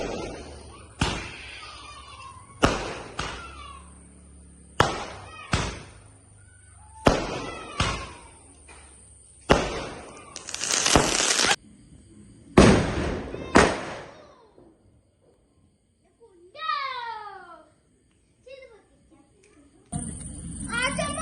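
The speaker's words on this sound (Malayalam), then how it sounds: "അപ്പോൾ പിന്നെ ഞങ്ങൾ പടക്കം പൊട്ടിക്കാനൊക്കെ പോവാണ്." Firecrackers burst one after another on Vishu night in Kerala, sharp loud bangs every couple of seconds, some rapid crackling runs, with children's voices and chatter between the blasts and a whistling rocket near the end.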